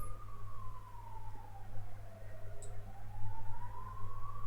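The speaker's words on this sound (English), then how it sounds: "The ambulance is on the way." An ambulance siren wails outside at moderate distance, its tone sliding steadily down and then back up, over a low steady hum.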